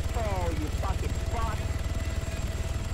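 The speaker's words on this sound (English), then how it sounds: "there's a chopper hovering right above us. With the lights on." Helicopter hovering overhead in the video game Arma 3 Altis Life, its rotor producing a steady low rhythmic thumping that runs throughout, with a voice briefly speaking over it.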